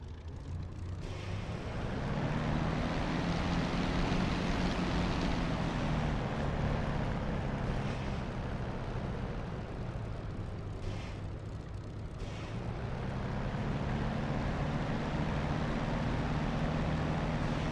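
An airplane in a flight simulator game takes off, its engine giving a loud, steady roar over a low droning hum that swells, dips slightly midway, then builds again.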